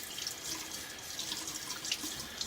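Water runs from a tap to loosen shaving lather: a steady, close, hissing stream, unbroken and alone for a couple of seconds.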